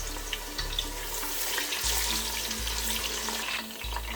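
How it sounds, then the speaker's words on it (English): Chopped onions frying in warm oil in a pan while cooking spicy peppered turkey: a steady close sizzling hiss that keeps going throughout, alone without talk. "add in some chopped onions, And you want to fry this for about 1 minute 30 seconds"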